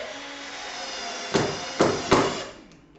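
A power driver whines steadily as screws are driven into a glued wooden box, with three sharp knocks in quick succession as each screw seats, then the motor winds down.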